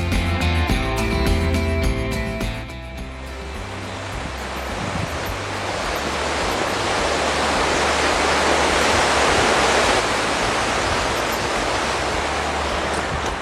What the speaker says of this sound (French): Le son sur le pont est assourdissant. C'est tellement bruyant, la rivière, la force du courant.